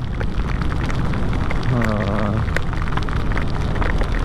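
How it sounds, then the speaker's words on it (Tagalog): Heavy rain pours steadily during a motorcycle club ride in Zamboanga del Sur, Philippines, a dense, continuous hiss drumming on surfaces close by, with a brief low rumble partway through. "Grabe kadagko sa ulan."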